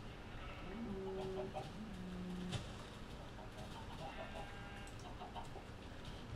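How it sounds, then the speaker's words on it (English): Chickens in the Minecraft video game cluck in short bursts over background game sounds. Each burst is moderately loud and spaced out across the clip. "We lost the chicken."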